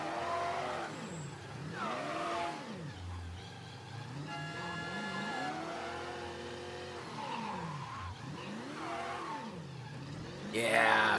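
Yellow car driven in the video game Mafia III, its engine note rising and falling in repeated revving sweeps with tire skids, loud and continuous across the clip.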